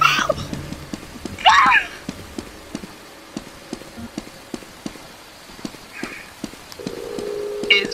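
In the Roblox horror game The Mimic, a monster's footsteps land as a steady series of dull thuds down a hallway, moderately loud, with occasional creepy ambient tones and brief voices around them.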